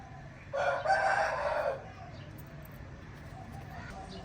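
A person imitates a rooster crowing, giving one loud, drawn-out crow against a quiet background.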